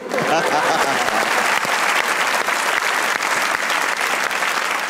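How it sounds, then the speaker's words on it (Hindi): A studio audience bursts into dense, steady applause that stays loud and close throughout, with some speech underneath. "इनके लिए एक बार तालियां हो जाएं"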